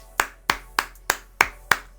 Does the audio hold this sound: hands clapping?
yes